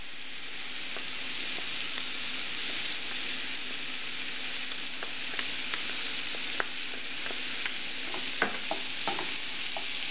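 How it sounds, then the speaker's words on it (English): Garlic ginger paste fries with onions for an Indian egg curry, a steady close sizzle broken by sharp spoon scrapes and taps against the pan as it is stirred, growing busier toward the end. "Mix your garlic and ginger well with your onions"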